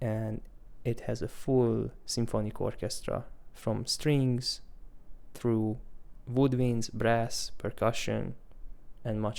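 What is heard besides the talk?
No distinct noise like a dog, phone or traffic.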